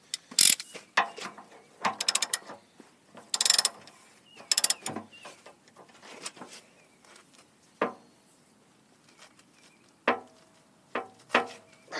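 Ratchet and socket tightening during a hydraulic cylinder rebuild on Case and Bobcat equipment, loud close bursts of rapid clicking in several separate runs with short pauses between them.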